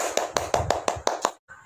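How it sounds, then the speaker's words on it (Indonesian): A short burst of about seven sharp, evenly spaced hand claps at a church youth worship service, close and distinct, followed by a brief silence and a faint trailing sound. "Tepuk tangan dulu buat kita semua."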